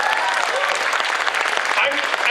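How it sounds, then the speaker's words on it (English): Brief burst of strong, steady applause from the cosplay contest crowd at a London, Ontario convention center during Forest City Comicon 2015, with a few faint cheers mixed in. "Big round of applause for the venue."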